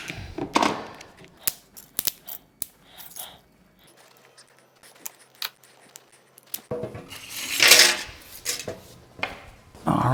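Brittle plastic mixing cups peeled off cured resin castings: sharp irregular cracks, snaps and crinkling bursts, close and loud, separated by quiet gaps, with a dense cluster of crackling near the end.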